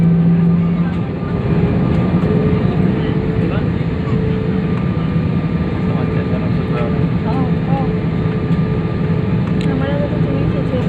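An airplane takes off from Andaman Island with a steady, loud engine roar that fills the whole stretch without easing, as faint voices murmur underneath.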